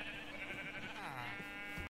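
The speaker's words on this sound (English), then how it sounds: "Right, so we've got loads of sheep." Sheep bleat in Minecraft, one drawn-out wavering baa followed by another, clear and close with nothing else over them.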